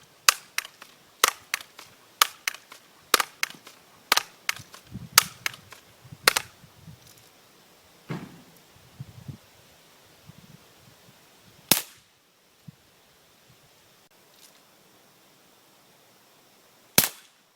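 Sharp BB gun shots and impacts on a bleeding zombie target, a rapid string of loud cracks in the first six seconds, then scattered single pops with quiet gaps and a last shot near the end.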